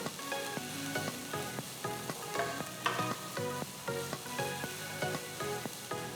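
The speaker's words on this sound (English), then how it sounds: "After adding the onions, I'm adding about 5 cloves of garlic that's been thinly sliced." Thinly sliced onion and about five cloves of sliced garlic frying in a pan, a steady sizzle running under repeated soft taps and scrapes of stirring, close and moderately loud with no talking.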